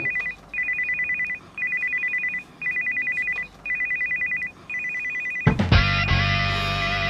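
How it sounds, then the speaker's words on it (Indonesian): A mobile phone ringtone plays in a home as repeated, even electronic bursts with short gaps between them, loud and close. A louder burst of other noise cuts in near the end. "Itu suara HP Babe."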